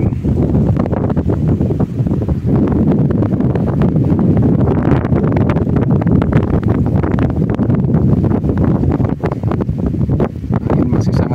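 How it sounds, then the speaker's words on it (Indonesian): Strong wind gusts buffet the microphone at the Pandansimo bridge construction site in Bantul, Yogyakarta, a loud, continuous roar with faint talk beneath. "Angin masih sangat besar sekali."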